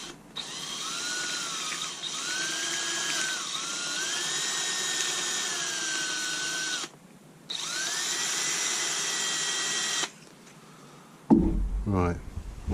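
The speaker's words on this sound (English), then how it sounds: "I think I'll have to be really careful turning this on the lathe" Lathe turning a Milliput pen, a steady high motor whine with tones shifting in pitch as the tool cuts, stopping briefly twice, then a clunk and handling noise at the end.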